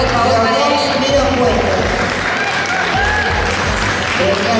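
Loud, dense audience applause at a youth tournament award ceremony, a steady roar of many hands with cheering voices and crowd noise mixed in, close and continuous throughout.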